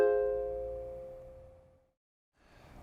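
A ukulele chord rings out close and decays to silence, followed by a faint rustle of handling noise at the end.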